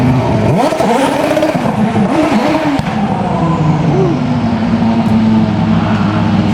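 A Super Formula race car passes at Red Bull Racing Day Tokyo 2021, with a loud, steady engine roar and a rising then falling pitch as it sweeps through a nearby corner.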